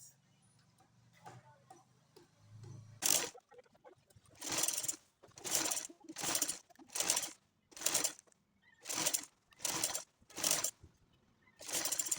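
A sewing machine stitches a half-inch fold on an Igbo cloth wrapper in about ten close, loud bursts of rapid whirring with short pauses between them, after a quiet start.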